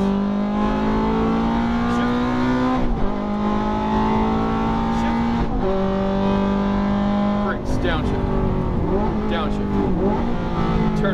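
A Ferrari F430 engine pulls hard under throttle on a track, its rising whine climbing through several gear shifts, each marked by a brief dip before the pitch climbs again, loud and close, with an instructor talking over it.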